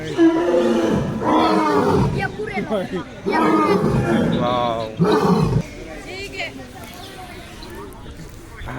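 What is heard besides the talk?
animal roaring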